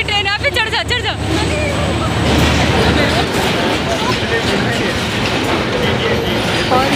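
At a station in Pakistan, a passenger train on the Karachi to Lahore route rumbles and clatters, loud and continuous, under a crowd's busy chatter and nearby voices.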